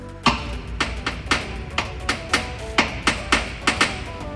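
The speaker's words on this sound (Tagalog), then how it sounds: "unang gagawin, tiktikan para matanggal yung mga pintura" A hammer taps paint off steel parts during ship repair work, about a dozen sharp metallic knocks at a brisk, slightly uneven pace, close and clear.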